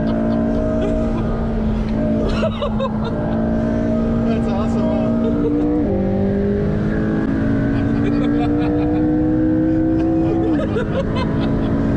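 McLaren 675LT engine lapping the Nürburgring Nordschleife, a loud, sustained drone that rises steadily in pitch through the gears, with sharp drops at shifts, close and continuous.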